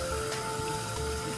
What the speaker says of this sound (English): Rinse them off really good and set them over here inside of a strainer